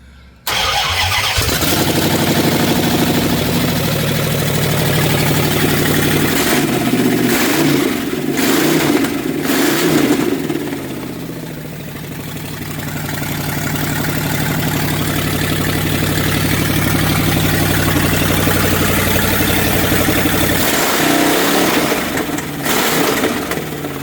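A small engine wired up from scratch without a choke catches and runs, loud and close, a steady mid-pitched drone that revs up and settles over the whole stretch, no talk.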